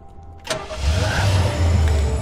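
A car engine in Hotline Miami cranks and catches after a sharp click, then settles into a loud, steady low rumble, with no talk over it.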